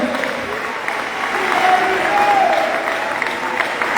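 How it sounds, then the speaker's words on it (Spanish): Church congregation applauds during a seminar service, a loud sustained crowd clapping mixed with cheering voices and brief tonal calls over the top. "dale un aplauso al Señor. Fuerte, fuerte, fuerte."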